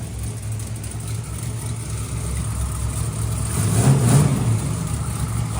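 A twin-turbo, methanol-fueled NASCAR truck engine warming up on a dyno, a steady loud low rumble with a throaty idle that swells slightly in revs partway through, no talking.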